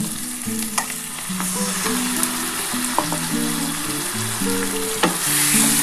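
Duck egg curry frying in a pan with spice-paste water poured in, a steady loud sizzle and bubbling that carries on throughout, with occasional stirring scrapes and clinks near the mic.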